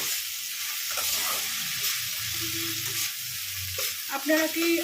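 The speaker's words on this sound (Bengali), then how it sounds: "এটা এবার ভালো করে কষিয়ে নেব।" A large whole tomato is sautéed in a pan for a Bengali murighonto of Hilsa fish head and mung dal, with a steady close sizzle and frequent stirring scrapes; faint background tones sit beneath the frying.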